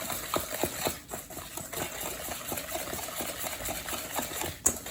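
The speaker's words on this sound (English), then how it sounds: "Whisk until you don't see any more lumps" Brown sugar cookie batter with melted butter gets whisked in a bowl, producing faint, rapid, regular scraping and tapping strokes that continue steadily throughout, with no voices.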